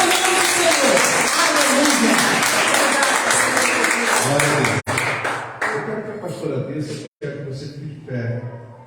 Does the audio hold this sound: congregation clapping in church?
yes